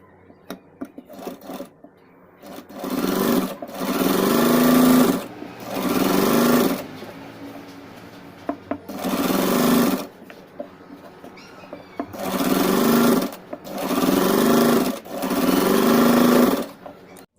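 A sewing machine stitches the neckline of a crop top in six close, loud runs of rapid whirring, each lasting a second or two and separated by short quiet pauses.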